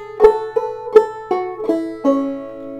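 Clawhammer banjo playing a short passage of the tune Half Past Four: six bright plucked notes in an uneven rhythm, each ringing briefly, close and clear with no talking.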